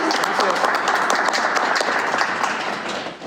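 An audience at a presentation of three Mexican graphic novels claps loudly and steadily for the guests in a dense burst of applause that holds for about three seconds before easing slightly.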